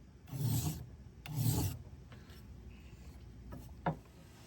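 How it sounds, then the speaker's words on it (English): A metal file rasps along the edge of a metal clip in two strong, steady strokes, followed by softer scrapes and a short sharp tap near the end. "I'm also moving it along, filing the edge"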